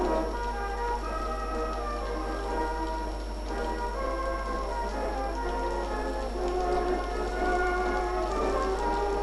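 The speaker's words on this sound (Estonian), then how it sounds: "Vihma sajab ja välja ka ei saa minna." Steady rain falls outside a house on a dreary day, a continuous soft patter with scattered drip ticks that holds evenly from start to end, with no voices over it.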